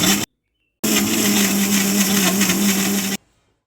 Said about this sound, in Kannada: ಮತ್ತೆ ಲಿಡ್ ಕ್ಲೋಸ್ ಮಾಡಿ ಮತ್ತೆ ಇದನ್ನು ಮಿಕ್ಸಿಯಲ್ಲಿ ರುಬ್ಕೋಬೇಕು.